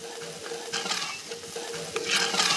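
Pestata caramelizing in a hot wide pot after meat for a lamb and pepper ragù, a steady close sizzle with bursts of stirring scrapes that swell louder toward the end.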